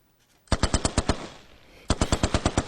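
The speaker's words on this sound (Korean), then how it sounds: "총소리 아이가." Rapid bursts of gunfire ring out at a distance, a string of six sharp shots, a pause filled with echo and low rumble, then another burst of six or seven, without voices.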